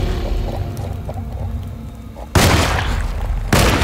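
Gunfire in the video game Alone in the Dark: two loud, abrupt broadband blasts about a second apart, each with a sustained noisy tail, following a quieter stretch of low background game sound.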